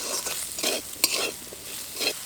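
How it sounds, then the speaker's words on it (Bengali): Potato and eggplant pieces stirred in a hot pan with salt, turmeric and cumin powder, a spatula scraping in irregular strokes over a steady close sizzle of frying. "সবজিগুলো দেওয়ার পর খুব ভালোভাবে নেড়ে নিয়েছি"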